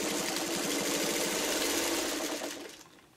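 A sewing machine runs steadily, stitching a fabric tube for a quilted tulip block's stem, with a continuous close mechanical hum and rapid needle rhythm before winding down and stopping near the end.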